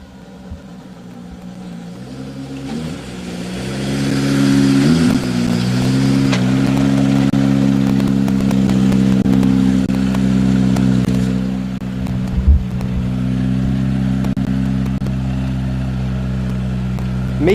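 Miko Marcek's rally car on a Rally Poland stage at Wieliczki approaches with its engine note climbing, then holds a loud, sustained, revving roar at close range before easing off slightly, with a brief thump near the end.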